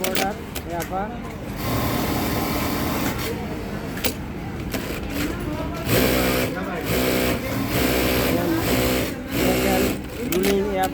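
A JAC A5E plain sewing machine does collar ruling, its motor whirring in bursts that start and stop repeatedly, close and fairly loud, with someone talking over much of it.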